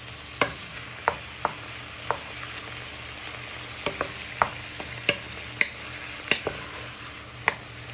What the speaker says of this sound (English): we're just frying the onion and garlic in with our chicken for a few minutes